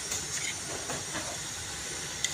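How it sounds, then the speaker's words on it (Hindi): Potatoes fry in a pan on an outdoor gas cylinder stove with green chilies, tomatoes and onions nearby, giving a steady sizzling hiss with faint pops, close and continuous. "ये आलू फ्राई हो रहे हैं"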